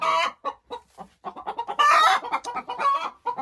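A hen that has just laid an egg clucks in short, choppy bursts close by in a henhouse, with a few louder squawking calls in between, no talking.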